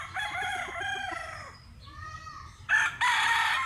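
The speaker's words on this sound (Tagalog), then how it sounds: "Manok ni sa amigo na ko diri sa Garlock, Cebu." A gamefowl rooster crows loudly and close on a farm in Cebu, a long drawn-out call, followed by more crowing from another bird in the background.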